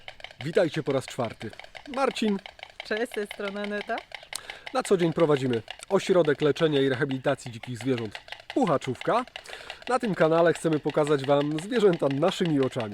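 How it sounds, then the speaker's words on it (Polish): A white stork clatters its bill in the background at a wildlife rehabilitation centre, producing rapid dry wooden rattling bursts beneath two people talking throughout. "ciężko nie usłyszeć tego klekotu bocianiego w tle"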